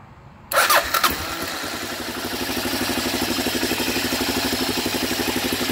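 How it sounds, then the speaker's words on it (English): A Kawasaki KLR 650 motorcycle with a no-start problem cranks briefly on the starter, then catches and settles into a steady, rhythmic idle, loud and close with no voices. "So let's see where our voltage reads and if the bike starts."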